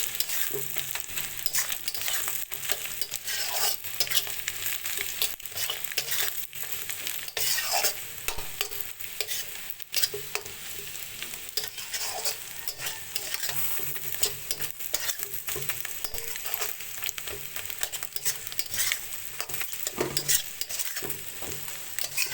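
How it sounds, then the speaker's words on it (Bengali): Boiled meat being stirred and fried in a pan, a steady sizzle running throughout with scraping stirs recurring at an even pace, close and fairly loud, with no talking. "সিদ্ধ করা মাংসটাও আমি দিয়ে দিয়েছি। এখন ভালোভাবে মিশিয়ে নেব।"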